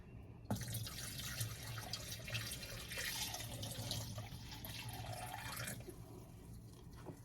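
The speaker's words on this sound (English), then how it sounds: "I poured that a little fast and some went out the edges." Liquid poured fast through a filter into a glass canning jar in a home kitchen, some spilling over the edges; a steady trickling, splashing flow runs for several seconds close up, then tapers off near the end.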